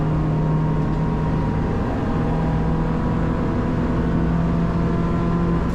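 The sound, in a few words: Citroen DS3 race car engine revving at Oulton Park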